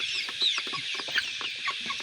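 A flock of 45-day-old half-desi, half-broiler chickens weighing about 1500 grams cluck repeatedly and close by on a village farm, with overlapping short calls and occasional higher squawks.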